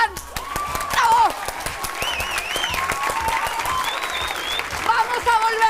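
A studio audience claps and cheers loudly through an Argentine political TV program, the steady applause punctuated by whistles and shouts, with voices speaking over it.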